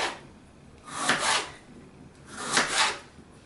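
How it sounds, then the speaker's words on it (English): A knife cuts quartered winter squash into quarter-inch slices on a cutting board, two separate firm scraping strokes spaced about a second and a half apart, close and fairly quiet. "I'm going to slice it into slices about 1/4 inch thick"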